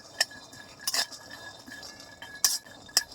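A utensil stirs peanuts dry-roasting in a pan, giving sparse, light metallic clinks and scrapes at an irregular pace over a quiet background.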